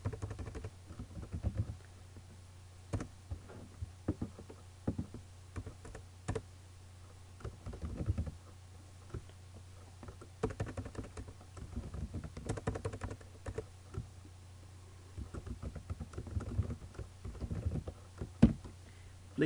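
Computer keyboard typing while writing code for a simple HTML5 card game: quiet, irregular clicks and key patter in uneven bursts over a low steady hum, close and faint.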